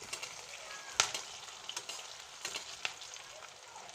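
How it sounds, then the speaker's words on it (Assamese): Onion frying in a pan with bay leaf, dried red chilli and a pinch of salt, a steady close sizzle with a few sharp crackles and pops, no talk over it. "পিঁয়াজটো অলপ ৰঙচুৱা হোৱালৈকে ভাজিম ইয়াত"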